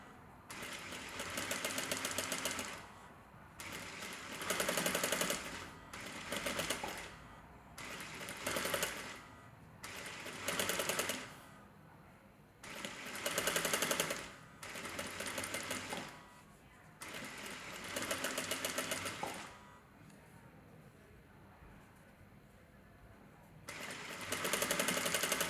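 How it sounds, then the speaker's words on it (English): A sewing machine runs in repeated bursts of rapid stitching along a pillow cover edge, with short pauses between runs, close and steady. "You're going to sew it right along the edge."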